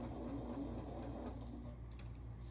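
A sewing machine top-stitches fabric pillow petals with a steady, continuous mechanical hum and rapid needle clatter, close and fairly quiet, with no talking.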